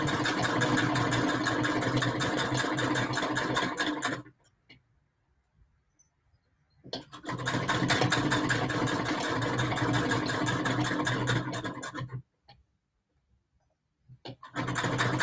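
Sewing machine chain piecing patchwork, running in two long, steady, buzzing bursts separated by brief silences, with a short restart at the end, close up and alone.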